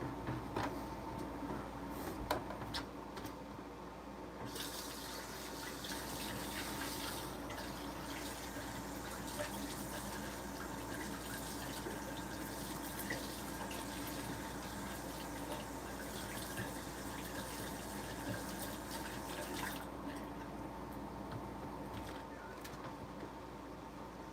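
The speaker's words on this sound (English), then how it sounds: "now I get to wash my hands again" Hands are washed under a running kitchen tap while making bread, a continuous soft rush and splash of water that stays steady throughout at a moderate distance.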